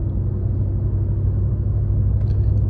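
A BMW F10 M5 engine rumbles low and steady from inside the cabin while driving, a deep continuous drone with no talking.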